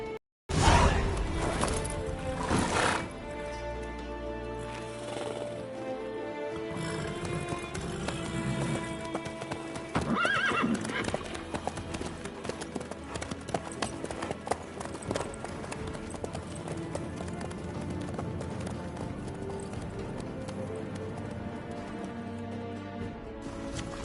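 Horse hooves clip-clop at a steady trot in The Witcher 3, set amid busy game audio with music and effects layered throughout.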